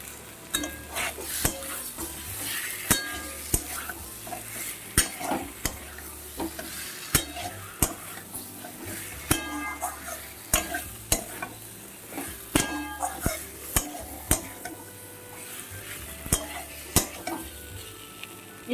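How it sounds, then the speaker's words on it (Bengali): Fried eggs go into a hot pan of egg curry base and are stirred, with steady sizzling and frying under repeated sharp clinks and scrapes of a spoon against the pan, close and alone without talk. "এবার এর মধ্যে ভেজে রাখা ডিমগুলো দিয়ে দিচ্ছি।"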